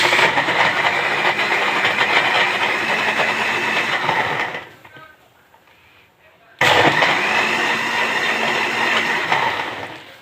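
An electric blender whirs loudly while blending fresh lemonade with mint, a dense steady roar that cuts out for a couple of seconds and then starts again at full strength.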